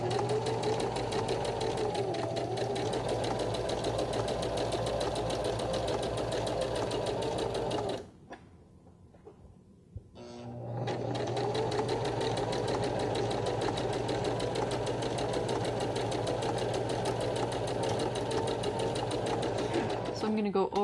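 Sewing machine stitching fabric for a tank top romper runs in a steady, close mechanical hum, stopping for about two seconds midway before starting up again and running to the end.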